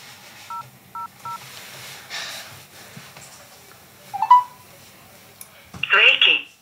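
Telephone keypad tones as a number is dialed: three short evenly spaced beeps, then a pause, a brief rising electronic tone and a louder burst of ringing or signal sound near the end, all close and clear.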